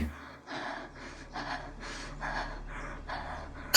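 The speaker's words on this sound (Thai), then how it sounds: "ใครหอบอะไรตรงนี้เนี่ย วิ่งหนีอยู่เหรอ" A character in the video game Children of Silentown pants hard, about eight rhythmic, breathy gasps in a steady sequence, close and fairly quiet.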